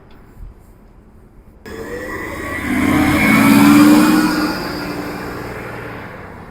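A city bus rolls along a four-lane road in Tuscaloosa, Alabama, its engine a steady mid-pitched drone that swells as it accelerates, peaks, then settles back to a cruising hum, heard from inside the vehicle.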